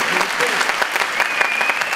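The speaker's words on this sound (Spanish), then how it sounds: "Y un fuerte aplauso para ellos" Steady, dense applause from a school arts fair audience as students walk onto the stage, loud and continuous throughout, with a few voices mixed in.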